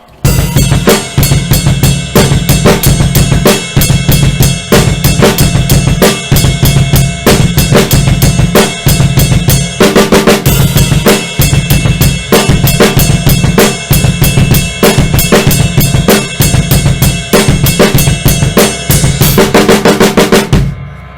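A drum kit plays a song at full tempo, with driving double bass and snare fills, loud, close and dense, continuous for about twenty seconds with no talking.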